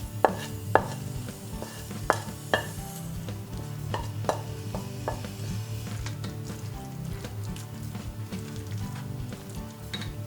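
Chopped vegetables being stirred into a cooking chickpea flour batter for chickpea tofu. Steady scraping and stirring with a few sharp utensil knocks early on, close and moderately loud, with no voices.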